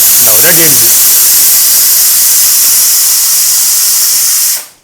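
A kitchen pressure cooker releases steam in a loud, steady hiss that runs unbroken for several seconds before cutting off abruptly; a brief voice is heard at the start.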